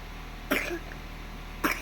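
A small child coughs twice, each short raspy cough about a second apart, close and fairly clear against a quiet room hum.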